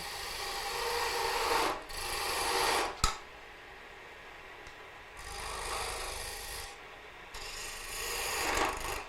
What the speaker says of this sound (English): pushing the skew in directly makes it chatter like that